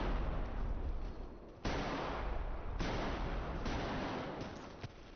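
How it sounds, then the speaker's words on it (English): Video game gunfire near an opening, with air pressure bursting outside: several heavy booming shots at irregular intervals, each followed by a long rumbling tail, loud and close, with no voices. "You hear the air pressure violently escape outside into the world."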